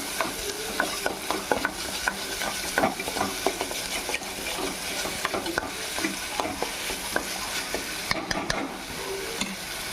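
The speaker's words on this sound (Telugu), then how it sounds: "అది కూడా పచ్చి వాసన పోయేదాకా మంచిగా ఫ్రై చేసుకుందాం." Ginger garlic paste frying and sizzling in a pan for a potato egg kurma, with a steady hiss broken by frequent scraping stirs of a spoon against the metal pan.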